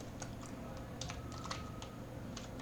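Typing on a computer keyboard while writing PHP code, a steady run of quiet, irregular key clicks over a faint background hum.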